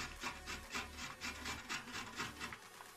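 Coconut being grated by hand on a grater gives a steady run of rhythmic rasping scrapes, about six strokes a second, close and moderately loud with no voices.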